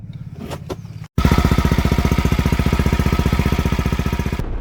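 Motorcycle engine running roughly and misfiring, a loud uneven chugging pulse with stuttering beats after a brief pause, close by and alone.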